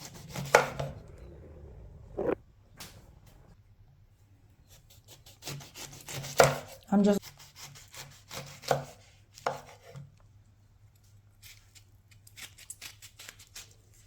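A knife slicing through a juicy lemon on a cutting board, several separate cuts and soft thuds with quiet gaps between them, close and clear with no voices.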